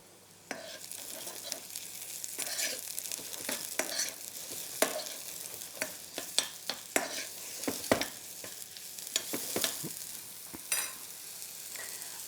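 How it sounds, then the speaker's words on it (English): Mushrooms fry in sesame oil in a pan with a steady sizzle, broken by frequent sharp clicks and scrapes of stirring as they are moved around, close and fairly quiet throughout. "add a bit of sesame oil to the pan, add in your mushrooms, give them a little fry"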